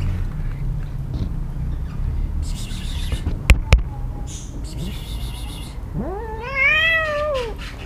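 A cat gives one loud, drawn-out meow near the end, close by. Before it come quieter rustling and two sharp clicks.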